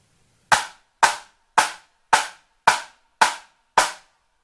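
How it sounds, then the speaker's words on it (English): Seven evenly spaced sharp drum strikes, each a smeared double hit from a badly played flam, ringing loud and close in a steady rhythm with no talking. "So that's a really bad flam sound."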